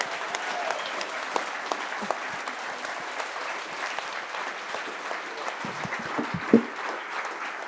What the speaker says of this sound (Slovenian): Zdaj pa prosim še zadnji, najglasnejši aplavz za parašportnico leta.